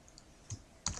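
Two quick keystrokes on a computer keyboard, soft and close, separated by a short pause in an otherwise quiet room.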